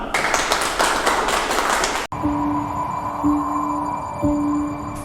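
Audience applause for BT News founder Keshav Bhardwaj, a dense burst of clapping for about two seconds that cuts off abruptly, followed by a steady tonal hum with faint ticks.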